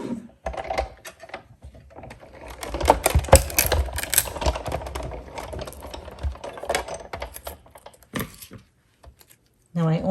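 A Sizzix die-cutting machine cranks green cardstock backed with adhesive sheet through its rollers, giving a close, uneven run of clicking, ratcheting rattles in bursts, with someone talking over parts of it.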